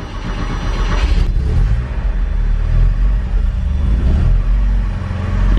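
A Porsche 944 engine catches and idles roughly after months of sitting, a low, steady rumble with a brief rise in revs near the start, loud and close without talk.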